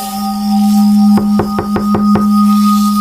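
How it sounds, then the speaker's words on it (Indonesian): Six sharp knocks in a quick, even series strike a rented room's door from outside, loud and close over a steady low hum. "pintu kamarku diketuk dari luar."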